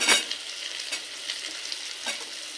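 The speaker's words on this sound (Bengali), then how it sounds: "এবার দিয়ে দিলাম কুমড়ো দিয়ে দেব গাজরের টুকরো" Potato, pumpkin and carrot pieces frying in a pan as they are stirred, a steady close sizzle with soft scraping strokes from the spatula and no talking.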